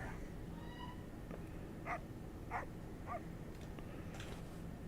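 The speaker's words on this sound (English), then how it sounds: "so we found a cat and dog" Cat and dog sounds in a video game: a few short, faint meows and yips come in scattered bursts over a quiet, hissy background.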